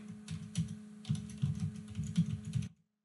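Rapid clicking keystrokes on a computer keyboard, heard up close and alone with no voices, in an uneven burst of taps that stops abruptly near the end.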